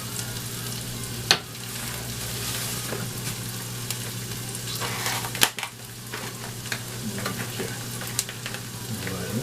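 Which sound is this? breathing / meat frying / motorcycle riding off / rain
meat frying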